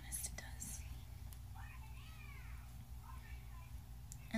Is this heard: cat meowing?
yes